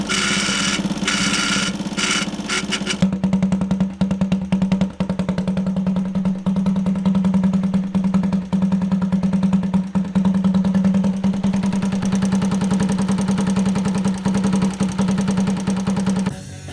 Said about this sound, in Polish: posłuchajcie jak walą zawory, gdy silnik się już trochę rozgrzał